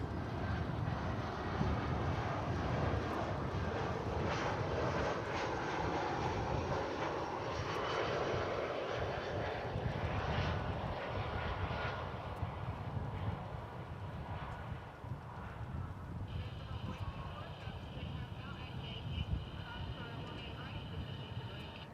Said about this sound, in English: flight coming in from Santa Ana, California, Airbus A319 American Airlines